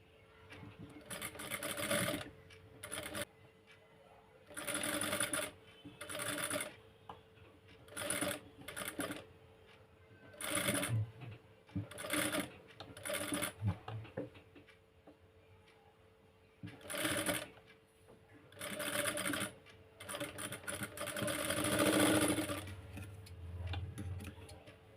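An electric sewing machine stitches a size 30 blouse in repeated bursts of fast, rattling whir that start and stop every few seconds, with quiet pauses between runs and the longest burst near the end.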